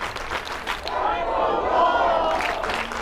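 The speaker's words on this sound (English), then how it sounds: "As you all can hear the crowds getting into it." Crowd cheering at a girls' high school soccer championship, a broad roar of voices that swells through the middle and stays loud, with scattered shouts above it.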